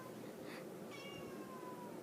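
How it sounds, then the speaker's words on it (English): A house cat meows indoors, a drawn-out mid-pitched cry sliding downward, heard close and fairly soft over a faint background hiss with no talking. "There's a nice cat."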